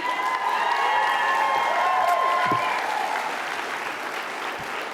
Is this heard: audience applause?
yes